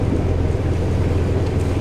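Catamaran engine given short bursts of throttle while docking, a steady low rumble mixed with wind buffeting and water wash, loud and close throughout.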